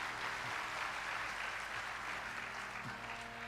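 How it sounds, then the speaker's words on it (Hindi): An audience at a Hindu religious discourse on Hanuman claps together in a steady, sustained round of applause, with no voices over it. "थोड़ा ताली बजा दीजिए।"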